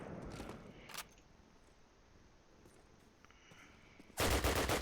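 Call of Duty 1 multiplayer gunfire on the mp_dawnville map: a loud rapid burst opens, quieter shots sound in between, and a heavy volley of automatic fire erupts near the end.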